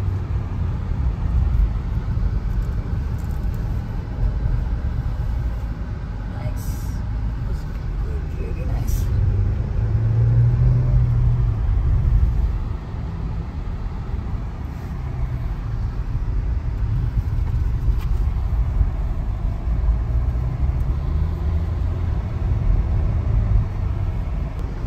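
A 2022 Mahindra Scorpio N SUV drives through curves, its steady engine and road rumble continuing throughout with a brief swell in the middle, under someone talking.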